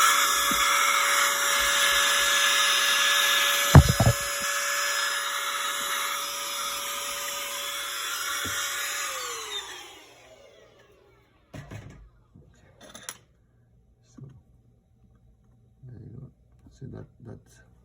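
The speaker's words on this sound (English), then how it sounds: "I'm just grabbing the vacuum. I'm just gonna dust it quickly." A vacuum cleaner dusts the inside of an opened MacBook Pro 16-inch 2020 during a battery swap, a steady loud hiss running about ten seconds with a couple of sharp knocks before it winds down and stops, followed by scattered faint handling sounds.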